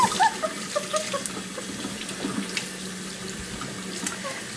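Tap water runs steadily into a sink or tub while a six-week-old puppy is bathed, a close hiss and splash with soft clattering and a few quiet words spoken over it.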